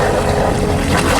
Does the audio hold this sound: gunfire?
no